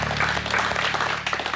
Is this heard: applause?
yes